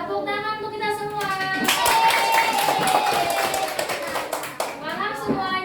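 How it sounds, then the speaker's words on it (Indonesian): A class of young schoolchildren clapping their hands together in a busy burst, with children's voices talking and chanting around it, framed by a teacher's speech before and after. "Tepuk tangan untuk kita semua."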